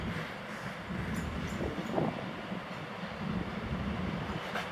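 Freight train with tank wagons rolling past Łowicz Główny station, a loud continuous rumble and rattle of wheels on track with occasional squeal and clank, steady throughout with wind buffeting the microphone.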